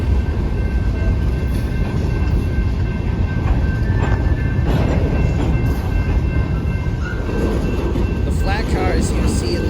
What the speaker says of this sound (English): Start of the cars being transferred from the Bayline Railroad's transfer yard here.